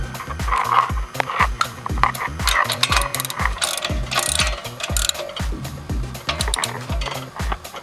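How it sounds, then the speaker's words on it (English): Ratchet tightening bolts on a 2010 Chrysler Town & Country van, loud close rapid clicking strokes in a steady repeated rhythm, with faint talk in the background. "Make sure you got the bolts tight."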